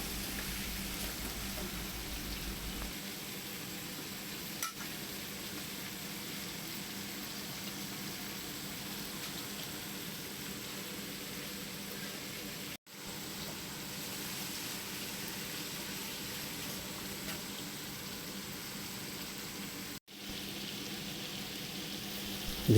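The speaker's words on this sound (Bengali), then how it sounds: "আমি এবারে এইভাবে 6 থেকে 7 মিনিট মিডিয়াম হিটেতে ফ্রাই করে নেব।" Bitter gourd frying in oil on medium heat, a faint, even sizzle holding steady for a long stretch with two brief dropouts and no talking.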